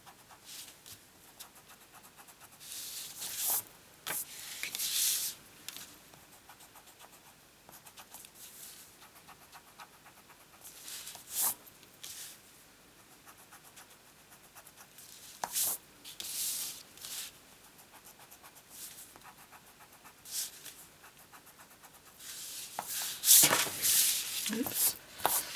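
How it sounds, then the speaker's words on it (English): Pencil marks rubbed off designer series paper with an eraser during napkin-fold card making, heard as a few short bursts of brisk scratchy rubbing spread across a quiet stretch. "Let's just take the pencil marks off."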